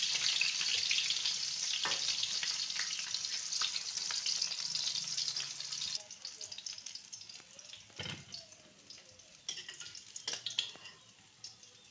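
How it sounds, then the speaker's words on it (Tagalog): Hot oil sizzles steadily for several seconds as fish fries, then quiets into softer crackling with occasional clinks and stirring noises. "habang ako nagpiprito ng isda"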